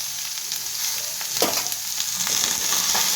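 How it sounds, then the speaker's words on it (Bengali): A vegetable diet dish fries in a pan with a steady, close sizzle, broken by a couple of stirring scrapes from a spatula. "এবার এটাকে ভালো করে নেড়ে চেড়ে নেব"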